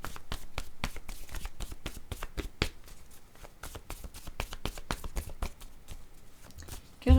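Oracle word cards being shuffled by hand, a dense run of quick, crisp papery flicks and riffles at close range, ending in a brief thump.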